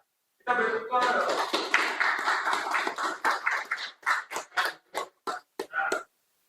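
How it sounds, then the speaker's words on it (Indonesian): A university microteaching class in a fisheries science program applauds a student group, with a short burst of hand claps that thins into a few scattered, separate claps; a voice speaks just before. "Kita beri tepuk tangan dong."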